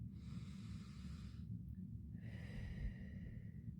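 A slow, deep inhaled breath during a guided relaxation exercise, soft and close, followed by a second shorter breath in a quiet room.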